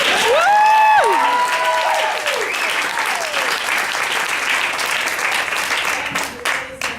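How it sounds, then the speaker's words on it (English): A round of applause from an evening event audience, loud and close, with whoops and cheers rising at the start before settling into dense, sustained clapping that thins toward the end. "can we give Sam another round of applause?"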